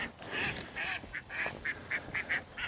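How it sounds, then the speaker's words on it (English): Ducks quack in a quick, irregular run of short nasal calls near a river, several in a row at moderate distance over a soft outdoor background. "There's some ducks."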